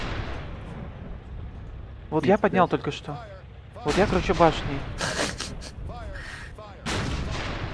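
Tank cannon fire in the video game ArmA 3, heavy booming shots and rumble running under steady voice chat between players, with bursts of louder impact noise through the middle.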